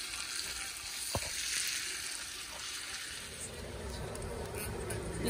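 Butter and chocolate melting together in a pan over gentle heat for brownies: a soft, even sizzle with a light stirring knock, fairly quiet and close, without speech.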